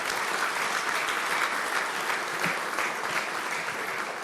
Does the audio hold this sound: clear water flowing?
no